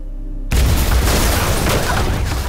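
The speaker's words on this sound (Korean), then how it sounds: "의문의 폭발 사고" A loud explosion bursts out suddenly after a brief quiet moment in a Korean crime film, then gives way to a sustained roaring rumble and crackling debris that fills the rest of the clip.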